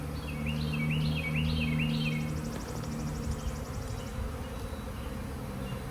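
Honeybees drone steadily around an open hive during an inspection, a close continuous buzz with a few chirping bird calls drifting in early on.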